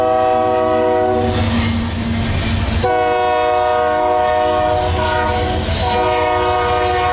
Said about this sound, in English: 26C pulls through Control Point Austell and towards Whitaker Yard to pick up a giant cut of intermodal.